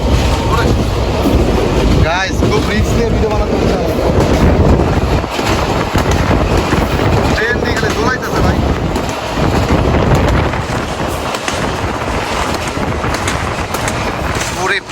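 Loud, steady roar of a moving train heard from its last carriage, with constant wind buffeting and rattling throughout and someone talking over it.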